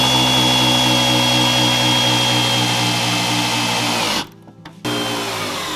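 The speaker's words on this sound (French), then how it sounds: "Donc on va percer ici et là. Et pour ça on va utiliser des mèches un peu plus longues normalement." A drill with a long bit bores holes into a cabinet inside a van during a cooktop installation, with a loud, steady whine that cuts out briefly near the end before spinning up again.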